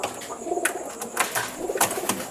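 A male pigeon of a backyard kolong breeding line coos in soft, repeated low burbling phrases, close by, with faint rustles between calls and no talking.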